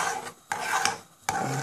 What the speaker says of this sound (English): I'm going to give it a little stir. Stir it up a bit.